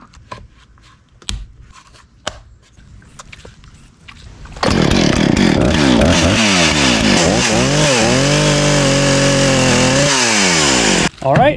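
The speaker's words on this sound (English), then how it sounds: "this saw hasn't ran in years, but now thanks to Hypa Parts, it is up and running good" An old chainsaw that had not run in years, fitted with a replacement carburetor, first pull-start tugs, then the two-stroke engine catches and roars loud and close, revving up and down before cutting off.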